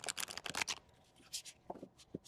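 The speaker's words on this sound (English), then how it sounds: "let's give it a shuffle and let's see what she can do" Deck of mushroom-themed playing cards shuffled by hand, a quick burst of riffling flutter followed by a few lighter taps and card slides, close and soft.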